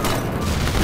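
Gunfire in the Garry's Mod video game, a dense, loud burst of rapid shots filling the whole moment with no speech over it.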